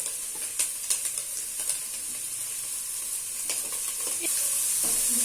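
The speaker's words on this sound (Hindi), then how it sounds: "इन तमाम चीजों को ना हमने हाफ कुक करना है" Carrots, capsicum and cabbage stir-frying in a pan as filling for chicken spring rolls, a steady close sizzle and hiss with scattered clicks of stirring, no voices.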